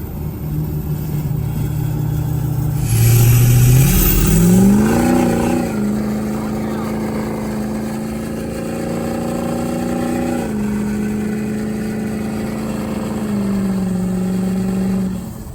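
A budget bogger car revs hard in a backyard, engine pitch climbing sharply then settling into a loud sustained drone with a few throttle blips, close and alone with no talking.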